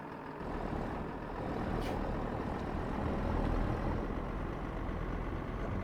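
A forestry truck drives onto a ferry boat, a low steady engine rumble inside the cab with faint hiss and rattle, no talk.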